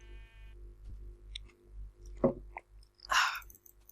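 Someone sips juice and swallows, making a few faint, short wet mouth sounds and gulps over a low background hum.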